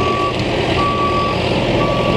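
Reversing beeps from a John Deere snow removal machine clearing snow downtown in Montreal at night, three long steady electronic tones spaced evenly over a constant loud engine rumble.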